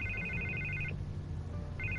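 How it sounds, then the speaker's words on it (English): A telephone rings in the Batman Telltale video game, an electronic ring that sounds in steady bursts, pauses, then starts again, fairly loud over a low background hum. "I can't get the phone to stop ringing."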